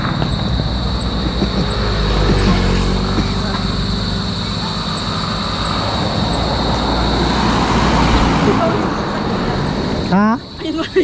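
Road traffic rumbles steadily nearby as vehicles pass in a continuous broadband roar, with a brief whooshing pass near the end.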